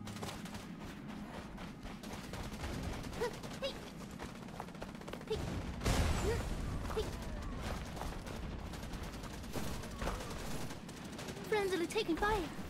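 Call of Duty gunfire rattles in dense, rapid bursts of automatic shots at steady loudness, with occasional in-game voice callouts over the shooting.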